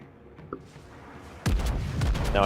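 A naval gun salvo in World of Warships, a sudden loud booming burst of heavy cannon fire that erupts after a quiet lull and rumbles on to the end.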